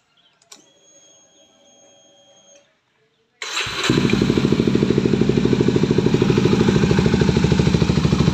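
After a faint electronic beep and a short silence, a Kawasaki Ninja 250 motorcycle engine cranks and roars to life, then holds a loud, rapid, buzzy idle.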